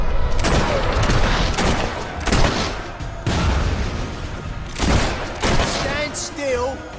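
Gunfire from a Fable III fight: repeated broadband bursts of shots and booms in clusters across the stretch, loud and close, mixed with voices talking and shouting over the battle.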